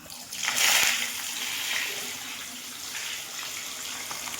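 Tilapia pieces hit hot oil in a wok, setting off a loud burst of hissing sizzle that settles into a steady, softer frying crackle, heard close with no talking.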